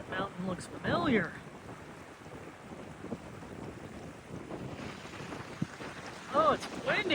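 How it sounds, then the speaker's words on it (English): Wind buffets the microphone with a steady rushing roar outdoors on a mountain trail near a waterfall in Sequoia and Kings Canyon, with bursts of nearby talking at the start and end. "Oh, it's windy right here."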